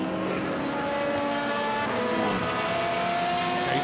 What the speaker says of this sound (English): here comes the BR01, Alfie Briggs flashing the headlights